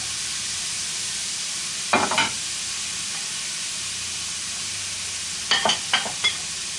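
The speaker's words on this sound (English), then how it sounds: "I got the oil hot. I'm going to go ahead and saute these vegetables off real quick." Vegetables sauté in hot oil for shrimp fried rice with a steady, close hiss, broken by a few brief scraping stirs of a spoon.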